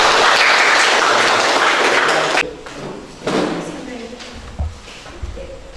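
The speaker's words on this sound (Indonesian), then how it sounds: "Tepuk tangan untuk semua" Class XI students at SMAN 1 Karusen Janang clap together in a classroom, a loud burst of applause for about two seconds that cuts off abruptly, followed by a brief second flurry and scattered thumps.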